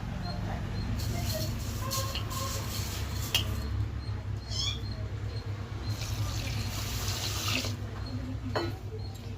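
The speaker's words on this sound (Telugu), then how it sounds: "ఒకసారి కడిగి నీళ్ళు పంపేసి ఫస్ట్లోనే కడుక్కోవాలి శుభ్రంగా." Rice is washed in water in a kitchen while cooking Hyderabadi chicken biryani, with steady splashing and running-water noise throughout, a few sharper clinks, and a faint low hum underneath.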